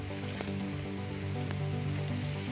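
Distant waterfall at Holfossen in Norway as a steady, soft wash of rushing water, continuous and muted rather than roaring, with faint low rumble beneath.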